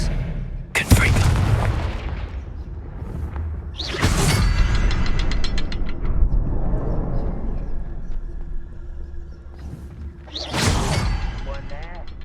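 Confringo spells fired in Hogwarts Legacy land as three heavy booming blasts several seconds apart, each with a sharp attack and a whooshing, rumbling tail.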